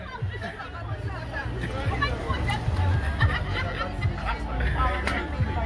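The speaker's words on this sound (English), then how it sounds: "There's a humongous crowd." A huge crowd's chatter fills the space as a thick, steady babble of many voices, near and far, holding at an even level throughout.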